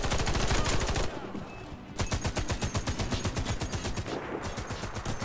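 Rapid automatic gunfire in the video game Warface, loud and close, with a dense burst, a brief lull, then a long rhythmic stream of shots to the end.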